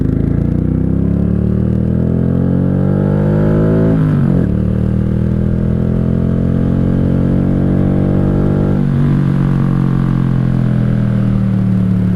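A 1995 Honda Shadow VLX 600 (VT600CD) V-twin motorcycle accelerating hard with the throttle wide open, engine note rising through two gear changes, loud and close with heavy wind rumble throughout.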